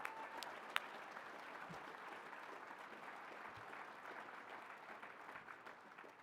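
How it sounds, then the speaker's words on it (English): A crowd at a political event gives a big round of applause, a faint, sustained patter of many hands clapping steadily for several seconds, somewhat distant, with no talking. "a big round of applause"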